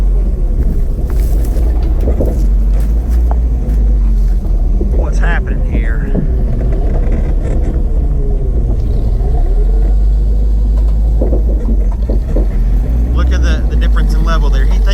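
A Toyota mini off-road truck grinds uphill with a steady, loud low engine drone, while someone talks over it throughout.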